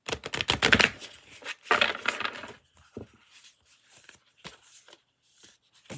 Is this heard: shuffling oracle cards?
yes